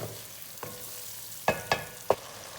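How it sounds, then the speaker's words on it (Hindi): Tomatoes stirred into cauliflower curry frying in a pot, a soft background sizzle with a few distinct scraping strokes of a spoon against the pan, clustered near the end. "टमाटर मिक्स करूँगी।"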